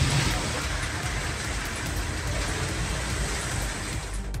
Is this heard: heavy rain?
yes